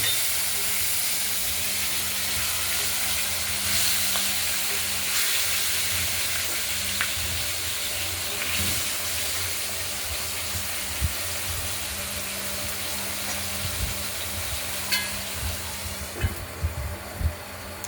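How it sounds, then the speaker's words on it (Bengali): Katla fish pieces fry in oil in a covered wok, giving a steady, fairly loud sizzle and hiss throughout, with a few sharp pops and crackles toward the end. "মাছগুলি একটা দিক ভাজা হয়েছে, একটা দিক ভেজে নেব।"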